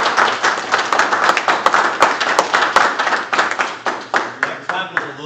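An audience at a city aldermen meeting in St. Robert, Missouri claps in a close, crisp burst of applause with distinct individual hand claps, thinning toward a few scattered slaps at the end.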